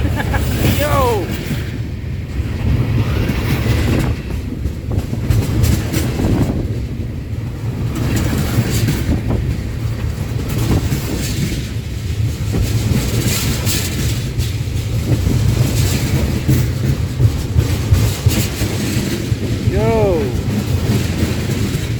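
A passing train heard from right beside a rail joint at a station platform, a steady loud rumble with repeated thumping over the joint throughout, plus wind buffeting and a person exclaiming nearby.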